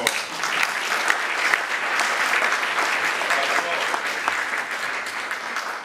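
A festival crowd at an outdoor church gathering in Celje gives sustained applause for Pope Francis. Dense, even clapping from many hands carries on for several seconds without a break.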